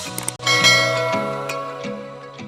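A bright notification bell sound effect rings out in a few clear metallic dings, each with a sustained ringing tone that slowly decays, loud and alone with no talk.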